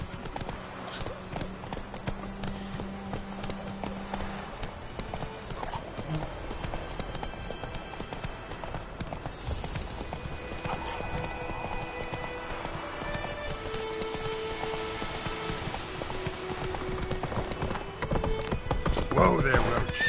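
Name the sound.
horse Roach hooves clip-clopping, video game The Witcher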